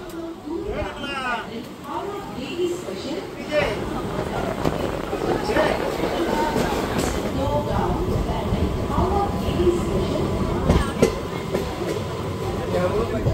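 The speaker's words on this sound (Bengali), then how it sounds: "আমাদের ট্রেন ছেড়ে দিল ব্যান্ডেল জংশন থেকে।" The 13187 Maa Tara Express pulls out of Bandel Junction with a steady, loud rolling rumble and rattling carriages heard from inside, while passenger chatter murmurs beneath it.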